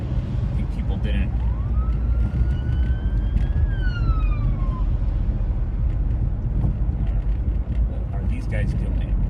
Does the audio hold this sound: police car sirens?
yes